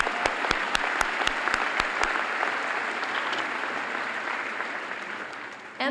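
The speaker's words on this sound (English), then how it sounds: "that is worth an applause" Audience at a 2014 high school graduation ceremony bursts into applause, a few sharp individual claps standing out at first before settling into a broad, steady wash of clapping from a large crowd.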